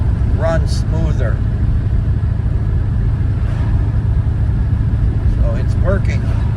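A 1967 Ford Falcon with a 302 V8 and a Carb Cheater 2.0 idles steadily with a constant low rumble, close by, while people talk over it.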